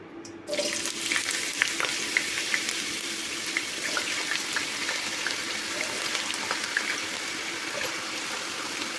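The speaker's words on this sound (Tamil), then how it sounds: "உருளைக்கிழங்கு நம்ம எண்ணெயில் போட்டு நம்ம பொரிச்சிக்கலாம்" Potatoes deep-frying in hot oil give a steady, dense sizzle and bubbling hiss that starts abruptly and runs continuously at close range, with no talking.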